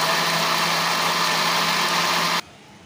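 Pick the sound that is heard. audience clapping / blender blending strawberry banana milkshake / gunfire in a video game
blender blending strawberry banana milkshake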